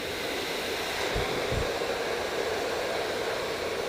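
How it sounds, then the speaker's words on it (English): A small handheld hair dryer on a low setting blows a steady, even stream of air over special-effects makeup, a continuous broadband whoosh that holds close and constant throughout. "You can always take a little hair dryer if you have a hair dryer handy. Give it a quick little blast of air"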